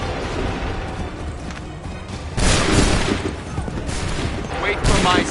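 Musket volleys crack out in Assassin's Creed 3, massed gunfire in bursts over continuous battle noise, with a loud close volley midway and another near the end, shouted commands underneath.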